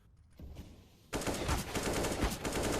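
AK rifle gunfight in CS:GO: faint shots at first, then a loud, dense run of rapid automatic fire that continues to the end.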